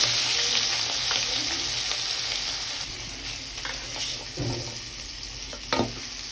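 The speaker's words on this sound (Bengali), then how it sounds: "ইলিশ মাছগুলো উলটপালট করে ভালো করে ভেজে নিতে হবে।" Hilsa fish frying in mustard oil for a fish-tail mash, a steady close sizzle and crackle that eases slightly over the span, with a few brief scraping bursts as the pieces are turned.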